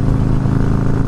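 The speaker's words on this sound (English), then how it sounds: "Just starting this thing up is a revelation. All that bounce and burble." A Harley-Davidson Fat Boy S motorcycle engine idles loud and close, a deep, steady, throbbing burble with a dense low rumble throughout the short stretch.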